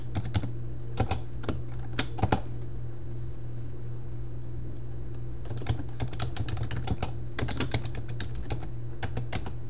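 A computer keyboard clacks in scattered bursts of quick keystrokes while a registration form is filled in, with pauses between bursts over a steady low hum.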